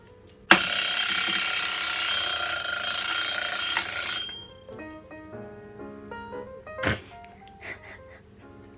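Kitchen timer alarm rings loud and continuous for about four seconds, then stops, followed by faint clinks and kitchen sounds.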